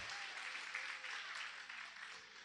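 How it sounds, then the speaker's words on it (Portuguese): Applause from a congregation in church, heard as a quiet, continuous wash of many hands clapping together, fairly distant and even throughout. "Aplauda bem forte ao Senhor."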